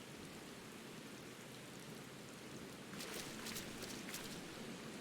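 Steady rain falls in Thavnair in Final Fantasy XIV: Endwalker, a soft, even hiss of drops on surfaces with a few brighter patter bursts toward the end, faint and with no voices.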